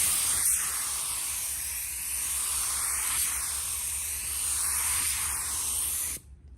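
A spray gun lays down a candy color coat in a custom crystal-pattern paint job, a loud, steady, close airy hiss with faint sweeping changes that cuts off abruptly near the end.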